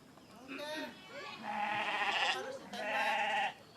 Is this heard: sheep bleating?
yes